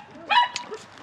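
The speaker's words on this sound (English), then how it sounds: "The dogs are playing. They're playing fetch over there with the kids." Dogs playing fetch outdoors with children, heard as a brief yip or whimper-like bark burst in the middle of a one-second moment, moderately near, with faint voices around.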